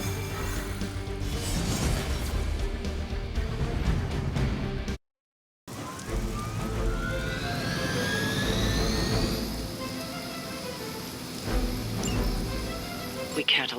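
Helicopter engine roar in the superhero video game Marvel Midnight Suns, a loud steady whine and rumble with rising turbine pitch, broken by a brief silent gap, mixed with game music and effects.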